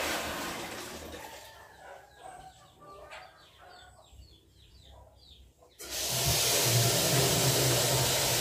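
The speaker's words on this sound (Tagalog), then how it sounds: "lalagyan po muna ng tubig para po hindi mahirap haluin" Water pours into a mixture to make it easier to stir, a sudden loud, steady rushing gush that starts after several seconds of chickens clucking nearby.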